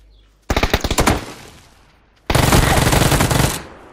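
Automatic gunfire in PUBG, loud and close: a short rapid burst with a ringing tail, a brief pause, then a longer dense burst of sustained shots.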